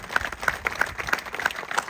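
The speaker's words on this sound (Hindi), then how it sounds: "एक बार जोरदार तालियां आप अपने लिए बजाइए" A short burst of dense audience clapping, fairly loud and continuous, with no voices over it.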